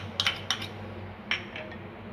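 Garlic chutney, ground with cumin and salt, being spooned into a bowl for eggplant raita: a few light metallic clinks and taps of a spoon against the bowl, close and clear over quiet room hum.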